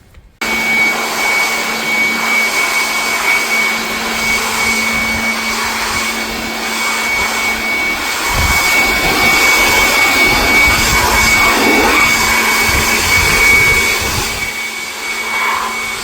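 An electric air blower runs steadily while it blows dust off during a cleaning job. Its loud, continuous whooshing roar holds for about fifteen seconds with only slight swells in intensity.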